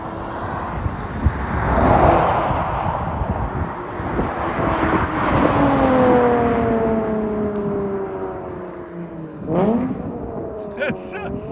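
A 2008-2012 Honda Accord 3.5L V6 with straight-pipe exhaust passes by, its engine note rising loud as it approaches, then sweeping and fading into the distance with a final gear change. Nobody speaks over the sound.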